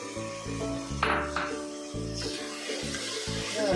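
Crushed garlic and ginger sizzle in a hot pan of oil for a Kerala-style vegetable kurma, a steady frying hiss broken by clattering knocks of a spoon stirring against the pan.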